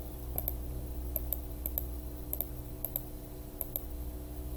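Sharp computer mouse clicks, single and in quick pairs, repeat at steady intervals over a low electrical hum while someone fills in a web form.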